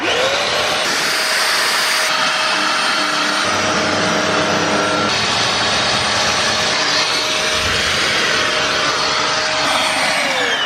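A FlexClean floor cleaner runs loudly on carpet, its steady high-pitched suction whine and motor roar continuous throughout, with shifts in tone as the head moves across the fibres.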